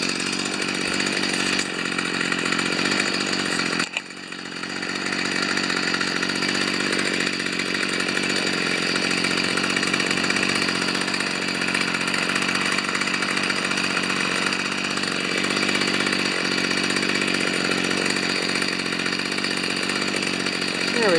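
Stihl FS45 string trimmer engine running steadily, a loud buzzing two-stroke drone close by that briefly dips early on, then holds constant with no talk.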